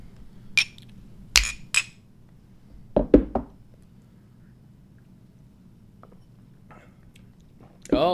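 Beer glasses clink together in a toast, two or three sharp bright chinks near the start followed by a few duller knocks, then quiet room tone with sparse small sounds.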